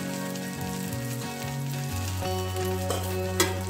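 Masala and stuffed brinjal frying in a kadhai, a steady soft sizzle throughout with a few light stirring clinks, under a continuous tonal background hum.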